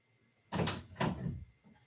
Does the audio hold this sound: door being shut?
yes